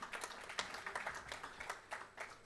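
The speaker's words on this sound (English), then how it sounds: "Let's give Advocate Stroom a round of applause." An audience at an International Day for Universal Access to Information event claps in faint, scattered applause for a panelist, a patter of hand claps sounding distant and quiet throughout.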